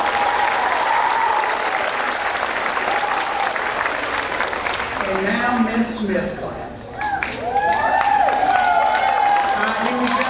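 A crowd at an elementary school fifth-grade graduation applauds continuously and loudly, with an announcer's voice cutting in partway through over the clapping.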